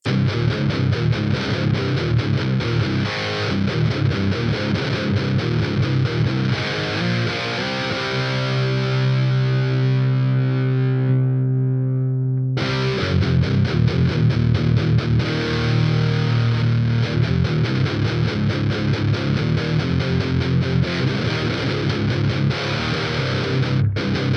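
Electric guitar run through a Vox ToneLab EX effects unit, a loud distorted riff with steady strummed chords, a ringing chord left to decay into near silence, then hard driven playing resumes and continues to the end.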